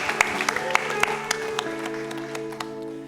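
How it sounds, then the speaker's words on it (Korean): A church congregation claps during a worship service, scattered sharp claps over sustained music and singing that fills the room. "하나님께 영광의 박수 올려드립니다."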